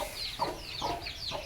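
Hens in a farmyard cluck in soft repeated bursts about every half second, close and fairly quiet, over faint outdoor background noise.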